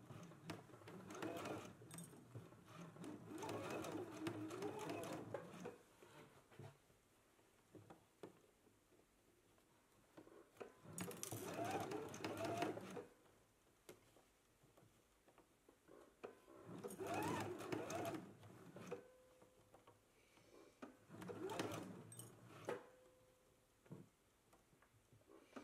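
A sewing machine stitches the side seam of a McCall's M8480 garment in four separate bursts of rapid whirring, with quiet pauses in between.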